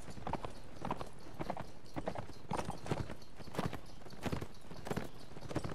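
A horse gallops in Mount & Blade: Warband, its hooves striking in quick, evenly spaced bursts, close and prominent throughout, with a constant low background bed beneath.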